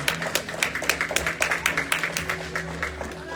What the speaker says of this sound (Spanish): si le va a aplaudir, apláudele a Dios.